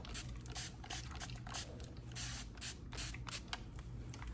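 Water misted from a spray bottle onto hair while taking down Marley twists, a run of short close hissing bursts repeating in quick irregular succession with no talking.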